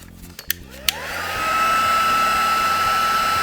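A heat tool blows steadily on mixed media paste on a card, starting after a few clicks and ramping up into a continuous loud whirring hiss with a high whine that holds to the end.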